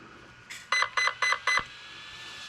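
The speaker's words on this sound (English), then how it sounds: "Ooh, 4 beeps." An Arrma Typhon 3S RC car's electronics give four short, evenly spaced electronic beeps on power-up, close and clear, after a brief faint click, with a low steady hum underneath.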